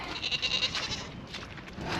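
Dairy goats in milk bleat at a farm during chores, a few overlapping calls rising above a steady noisy barn background, fairly close and continuous over a short span.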